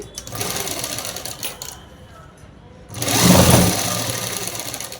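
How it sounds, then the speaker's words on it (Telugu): A domestic sewing machine runs a straight seam along the side of a man's shirt in short bursts, its motor whirring loudly and close, pausing briefly before a stronger, sustained stretch of stitching. "ఇంకొక సైడ్ తీసుకొని ఇలా స్ట్రైట్ కుట్ అనేది వేసుకోవాలి"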